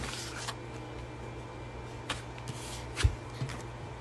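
Oracle cards from a moon cycles deck being shuffled close by, a soft continuous papery riffle with a few light taps and one sharper knock near the end, no talking.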